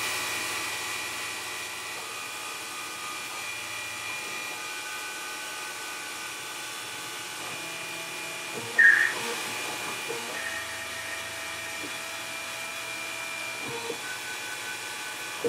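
A mill-turning machine cutting metal with extra coolant at a fast setting, a steady broadband whir and hiss with faint tonal hum throughout, a brief louder burst near the middle, no talk.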